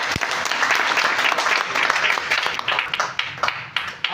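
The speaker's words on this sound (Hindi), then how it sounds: "जहांगीर के लिए जोरदार ताली" An audience claps steadily and loudly for about four seconds, a dense continuous applause with no speech over it.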